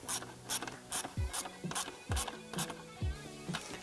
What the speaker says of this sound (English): Now I'm going to tighten our 2 hose clamps here.